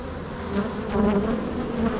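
A dense, continuous buzzing of many honeybees swarming close by at an open hive during an inspection, steady and loud with no talking.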